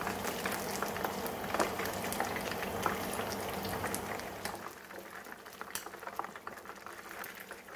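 Chicken drumsticks deep-frying in oil bubble and sizzle steadily with a dense crackling hiss, briefly quieting partway through before continuing with scattered pops.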